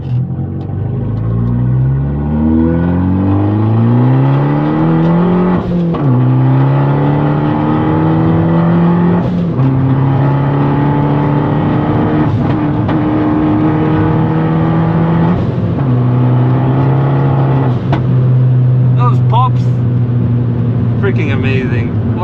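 Fiat 500 Abarth turbo with a five-speed manual gearbox, engine pulling through several gears while driving, loud rising revs that drop at each shift, with an enthusiastic voice talking over the cabin noise.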